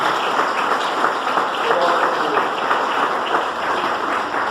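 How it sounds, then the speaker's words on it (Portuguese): A church congregation clapping during a worship service, a dense, steady wash of applause that stays loud throughout. "Glorifique a Deus com palmas"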